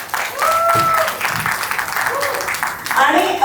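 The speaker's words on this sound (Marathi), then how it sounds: "तिच्यासाठी आपण एकदा जोरदार टाळ्या वाजवूया." Guests at an 80th birthday celebration break into applause, a burst of clapping mixed with voices and chatter from the gathered crowd.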